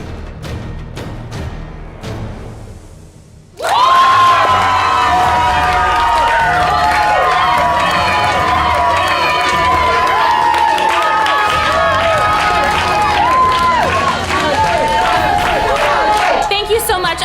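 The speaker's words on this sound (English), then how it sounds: "And now let me hear an applause for Ashley." Schoolchildren cheer and clap for a girl at school. After a quieter opening, loud shouting and applause burst in and stay strong and sustained to the end.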